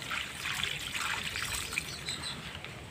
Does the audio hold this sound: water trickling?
yes